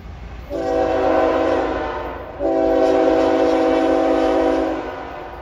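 A CSX freight train, IO32, passing at Union, New Jersey in the evening sounds two long, loud horn blasts over the rumble of the rails, the second blast held longer than the first.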